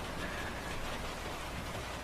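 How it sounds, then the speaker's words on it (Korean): Winter rain falling steadily on a tin roof, a dense, even patter with no gaps, faint and continuous throughout. "밤부터 양철 지붕 위로 겨울비가 오네요."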